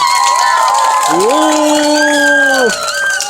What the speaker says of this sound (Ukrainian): давайте гучніше нагородимо їх оплесками